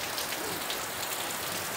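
Rain pours down outdoors in a dense, even hiss of drops striking surfaces, steady and unbroken throughout.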